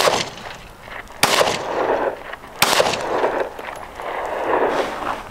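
Two sharp shots from a small handgun, each a loud, sudden crack followed by a short rumbling decay, about a second and a half apart, with outdoor background noise between.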